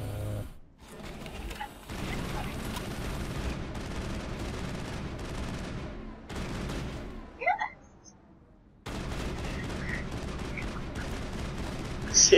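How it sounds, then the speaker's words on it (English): Gunfire in the video game Mass Effect during a fight at the ExoGeni headquarters: sustained bursts of rapid shots fill most of the stretch, broken by a couple of short pauses, loud and dense throughout. "You're shooting me, dummy."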